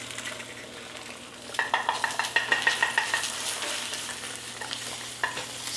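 Eggs fry in butter in a hot pan with a steady sizzle, broken by rhythmic scraping and stirring clicks from a utensil against the pan, close and moderately quiet.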